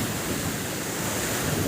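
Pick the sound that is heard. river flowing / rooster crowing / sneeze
river flowing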